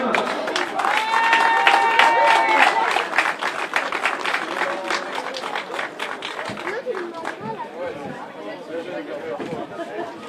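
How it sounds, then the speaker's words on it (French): An audience at the 2024 French Roller Marathon in Locminé applauds the junior men, with sustained clapping and crowd chatter that fades gradually over the ten seconds. "Applaudissements s'il vous plaît pour les juniors B-hommes."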